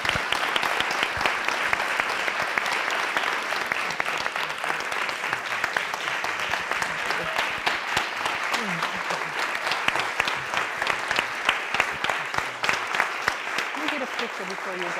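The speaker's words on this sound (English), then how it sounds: "let's go ahead and give them another round of applause" A book talk audience on Christianity gives a long round of applause, dense clapping with distinct individual claps standing out and scattered voices mixed in.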